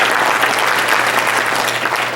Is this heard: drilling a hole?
no